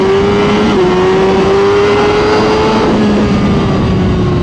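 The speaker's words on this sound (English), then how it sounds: "we're going to drop her down to first gear, roll into this thing, 60 to 130 mile an hour" New 2023 Suzuki GSX-R 1000 motorcycle accelerating hard in first gear, a loud, close engine wail climbing steadily in pitch under heavy wind rush, with no talking.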